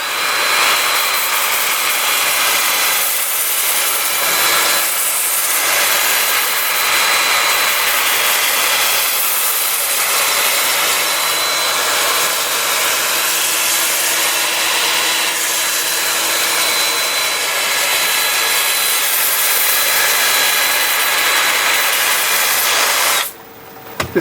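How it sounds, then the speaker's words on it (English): A power sander works an olive wood bowl, moving from 120 grit up to 400. It runs as a loud, continuous whirring hiss close by for the full length, then cuts off abruptly at the end. "Time for sanding."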